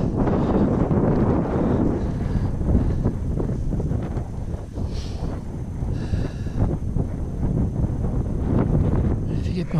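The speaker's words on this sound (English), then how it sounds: "A bit blowy out here." Wind gusts across an exposed mountain track at Cradle Mountain, buffeting the microphone in heavy rumbling bursts that rise and ease, with a voice speaking intermittently through it.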